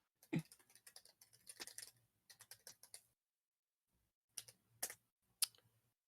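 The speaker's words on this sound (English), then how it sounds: "So much typing." Bursts of fast clicking keystrokes on a computer keyboard, close and quiet, in short irregular runs separated by pauses, with a few louder isolated taps near the end.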